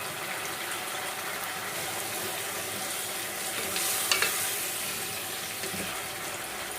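Eggplant sautéing in a pan of mung bean and sardine stew gives a steady, close sizzle with faint stirring and a brief clatter partway through. Nobody speaks.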